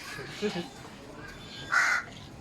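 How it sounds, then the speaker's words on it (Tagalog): A pet parrot calls, one short squawk early and a louder harsh squawk near the end, close by with people talking nearby. "May parrot."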